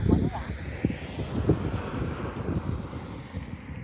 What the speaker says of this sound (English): Wind's kicking up right now.